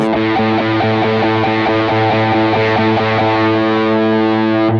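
An electric guitar through a JET Pedals Lamb Overdrive with the mids turned up chugs steadily on repeated chords, thick and loud, with no talking.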